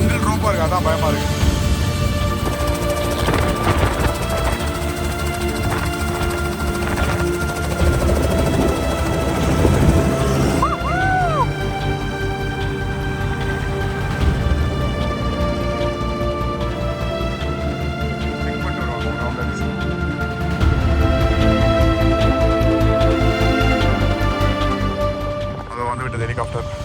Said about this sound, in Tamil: ஹெலிகாப்டர் இப்போ இந்த பைக்கை எடுத்துகிட்டு போகிறது